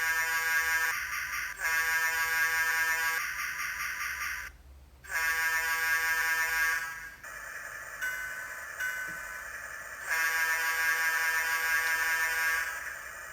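An MRC DCC sound decoder in an N scale locomotive plays through a tiny sugar cube speaker. It gives a loud, buzzy horn-like tone in long repeated blasts with short breaks, over a faint hiss.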